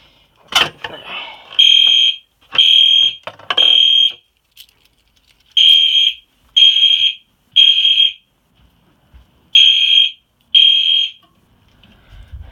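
A sharp mechanical clack as a manual pull station is pulled, then an EST Genesis fire alarm sounds in repeated evenly spaced electronic beeps, about eight pulses with a gap in the middle.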